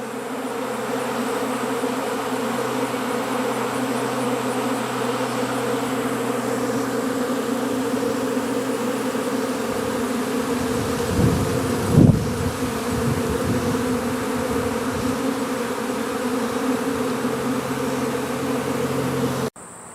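A dense, steady drone of many honey bees buzzing together, continuous and close, with a brief louder rustle near the middle before it cuts off.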